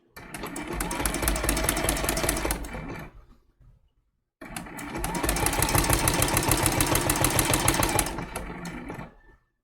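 Sewing machine stitching a snowflake applique for a quilted trivet, running in two steady, rapid bursts of close, even needle strokes separated by a brief pause.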